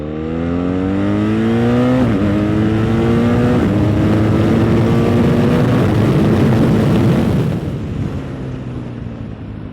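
BMW R1300GS motorcycle engine revving hard under acceleration, rising in pitch through several quick-shifted gears, loud and close throughout, with no talking.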